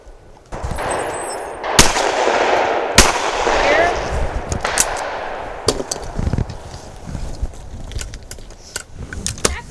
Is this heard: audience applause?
no